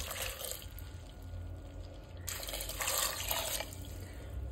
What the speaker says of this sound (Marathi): नेक्स्ट आमी हितून घालया उदक.